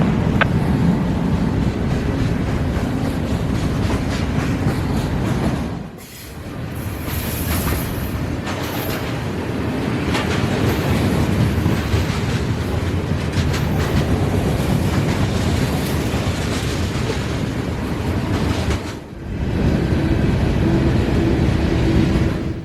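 A freight train rolls past close by, with a loud, steady roar of rail cars and clattering wheels that continues for over twenty seconds, broken by two short dips and with wind buffeting the microphone.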